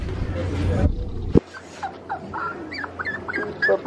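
A lost puppy at Hellshire Beach in Portmore, Jamaica, whimpers in a run of thin, high, wavering cries after a brief thump, with low background rumble and people's voices early on.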